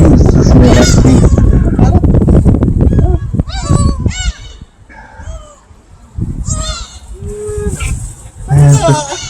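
Seagulls crowd a seaside port at Sorae Port, Korea, giving repeated loud squawking calls close by, some overlapping, over a busy background of voices and bustle.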